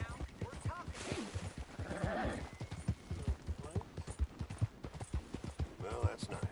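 Horse hooves clop rhythmically in Red Dead Redemption 2, a steady close gait with a whinny partway through, while voices speak faintly over the hoofbeats.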